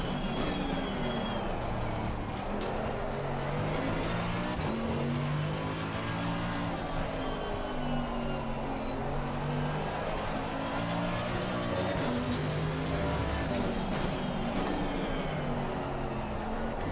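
Race car engine in Assetto Corsa Competizione, a Mercedes-AMG at the Nürburgring, drones steadily and loudly throughout with shifting pitch as it revs and eases, close and continuous with no talking.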